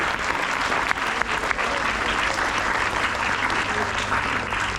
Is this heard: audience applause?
yes